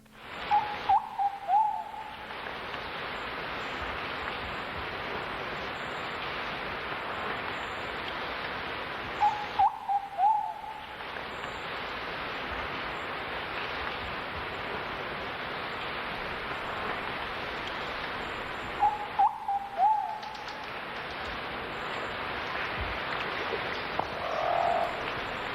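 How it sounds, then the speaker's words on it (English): A short-billed pigeon sings from high in the Belize jungle, its brief phrase repeating three times at roughly ten-second intervals over a steady wash of forest insects and frogs. "The short-billed pigeon seems to say, "It feels so good," as he sings from high in the forest."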